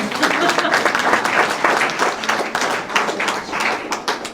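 An audience at a Department of Corrections presentation bursts into sustained applause to welcome a speaker, dense loud clapping throughout with a voice faintly mixed under the noise.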